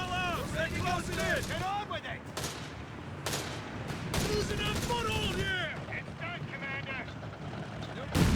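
Company of Heroes 3 battle with rapid gunfire, heavy blasts and artillery crumps from German half-tracks and an anti-tank gun, dense and continuous, under a caster's steady commentary.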